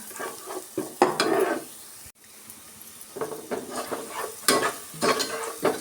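Spices with asafoetida and turmeric fry in a pan for jeera-pepper rasam, making a close, lively sizzle with bursts of stirring scrapes and a brief dropout partway through.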